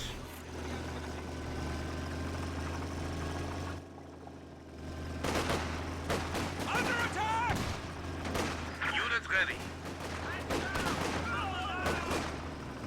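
A .55 caliber sniper rifle firing in a tank-battle strategy game, sharp single cracks spaced out amid a busy mix of other gunfire and engine rumble, with a commentator talking throughout.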